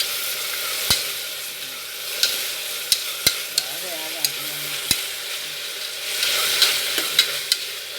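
Coriander and masala sizzling in a pan for chicken dum biryani, a steady frying hiss broken by sharp clicks and scrapes of a spoon stirring against the vessel, close and moderately loud.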